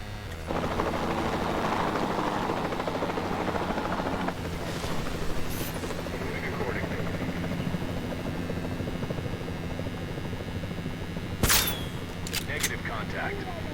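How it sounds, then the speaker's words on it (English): A capture team helicopter in Jurassic World Evolution 2 drones steadily with a low rotor hum throughout, joined by brief sharp game effects near the end. "Then the sensible thing is to take a capture team helicopter."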